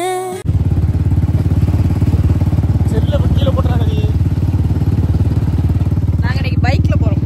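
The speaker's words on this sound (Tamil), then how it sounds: "நாங்க இன்னைக்கு பைக்ல போறோம்" A motorcycle rides along on a rainy day, its engine running at a steady loud drone from start to finish, while voices talk over it now and then.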